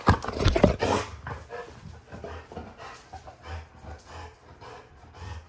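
An XL lilac tri bully dog snores close by, a steady run of low, raspy breaths repeating every second or so, loudest at the start and then settling into a softer rhythm.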